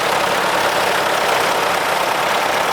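A Mercedes Unimog tractor's engine runs steadily at a steam rally, a loud, even idle rumble with a broad noisy character and no breaks.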